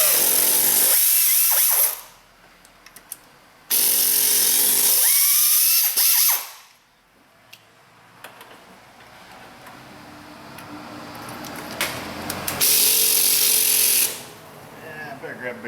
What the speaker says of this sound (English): Yeah, I better grab a bigger air ratchet.